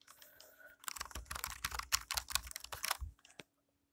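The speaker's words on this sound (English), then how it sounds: "let's see how insert, home, page up, and delete," Keys on a new computer keyboard pressed in a quick run, a dense burst of clicky taps for about two and a half seconds, then silence.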